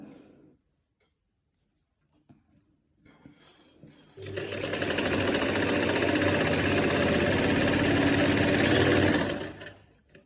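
A sewing machine stitches pocket lining onto palazzo pants. A few soft handling noises come first, then the motor starts and runs in a fast, steady, close whir for about five seconds before stopping.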